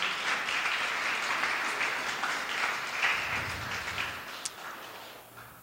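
A church congregation applauds during a Spanish-language sermon, a fairly faint, continuous spread of clapping heard from across the room, slowly fading.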